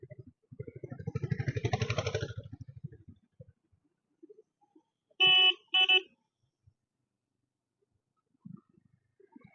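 A vehicle horn gives two quick, loud, bright honks in traffic, following a low engine rumble that rises and fades. A faint knock is heard afterward against otherwise near-silent surroundings.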